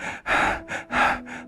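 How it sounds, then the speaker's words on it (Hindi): Heavy, ragged panting from a man who has just fled a frightening growling dog in a Hindi horror story: about five loud, rhythmic gasping breaths in quick succession, close and alone. "पीयूष बुरी तरह से हाँफ रहा था।"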